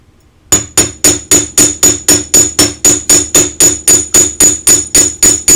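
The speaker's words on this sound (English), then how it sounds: "And then I'm going to hammer the ends. I just want it to have more texture." Steady metal hammering on the ends of a piece to give it texture, about sixteen sharp, even blows roughly three per second, close and loud with a bright ringing tone and no talking.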